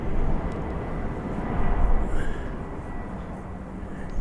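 An American Airlines jet at Birmingham Airport gives off a broad, steady rumble of distant engine noise that swells slightly midway. A person talks over it.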